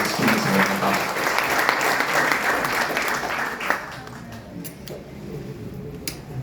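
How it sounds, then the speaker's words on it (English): An audience claps for a team supervisor, a full round of applause that gradually thins and fades toward the end, leaving a few scattered claps. "let's give a round of applause to our team supervisor"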